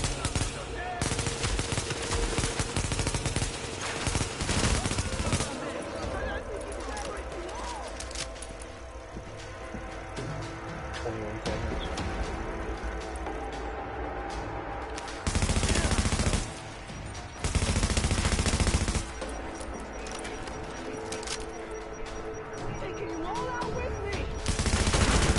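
Video game gunfire rattles in sustained automatic bursts, loud and close, with several louder volleys and brief pauses between them, while a voice talks over the shooting.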